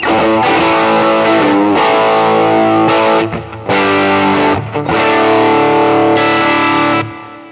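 Distorted electric guitar chords through a Kemper 65 Deluxe profile with boosted low end, loud and thick, sustained strums with brief breaks between them and no talking.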